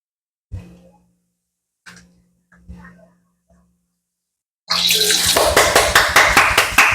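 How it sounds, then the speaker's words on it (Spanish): Water from a household supply is switched on and gushes loudly and steadily through the last two seconds. A few short, sharp knocks come before it in near silence. "Y ahora mami va a conectar el agua."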